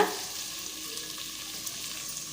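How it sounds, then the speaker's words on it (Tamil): Garlic, curry leaves and tamarind fry in a pan with a continuous close hiss and soft stirring scrapes, with no voices. "இப்போ இதை சேர்த்து கலந்து விட்டுப்போம் இன்னும் ஒரு டூ மினிட்ஸ் வதங்கட்டும்"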